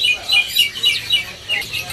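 Several bird calls ring out, probably from the pure white cotton-coloured zebra dove (perkutut) being shown, though the notes sound more like high chirps than cooing. The short repeated calls carry over a quiet background, with faint talk.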